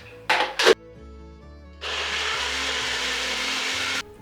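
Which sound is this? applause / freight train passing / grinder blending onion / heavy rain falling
grinder blending onion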